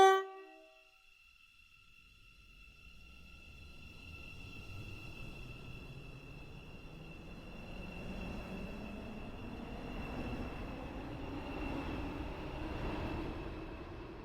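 A Class 707 train in a video game pulls away from Millcastle Racecourse station: a short tone sounds at the start, then the motors hum steadily, the whine climbs and the rumble builds as the train speeds up.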